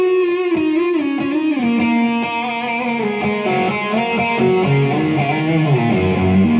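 A heavily distorted electric guitar through a Zoom GFX-4 multi-effects unit plays a sustained, singing solo with bending notes, loud and close with a thick, effected tone.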